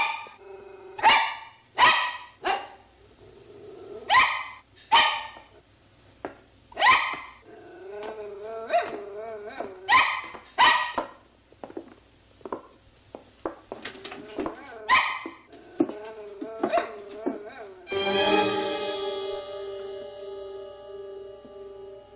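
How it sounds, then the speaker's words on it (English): A dog barks repeatedly in sharp, loud bursts with brief pauses, close by, shifting to whimpering and growling sounds; no talking. "Dog must have seen him. Gotta be why he's barking."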